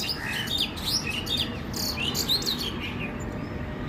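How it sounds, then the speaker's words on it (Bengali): Small birds chirp and twitter in quick overlapping bursts close by while crows are being fed, over a rough outdoor background hiss. "আর যে পাখির যে মিচির আওয়াজটা পাচ্ছেন এটা হচ্ছে অন্যান্য পাখি"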